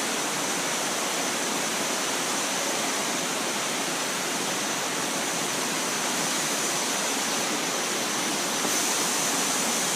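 Dirty water pours steadily out of fish farm pools in a continuous broadband rush, like a small waterfall, loud and close with no pauses for the full duration.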